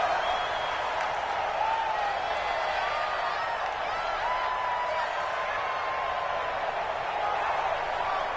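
A stadium crowd at a Jaguars vs Broncos football game keeps up a steady, dense roar of cheering with some whoops, heard under a commentator's voice.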